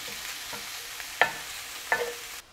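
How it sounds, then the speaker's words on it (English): Softened ingredients with bacon stirred in a pan for chicken liver pâté: a low sizzle with two sharp clinks of a utensil against the pan, alone and close. "I'll just mix that together."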